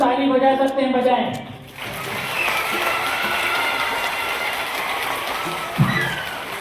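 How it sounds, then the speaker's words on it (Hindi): A voice is heard briefly, then a large stadium crowd at a school birthday celebration breaks into steady, forceful two-handed clapping that continues as a broad, even wash of sound. "सब लोग सबसे पहले जितनी ताकत से अपने दोनों हाथों से ताली बजा सकते हैं बजाएं।"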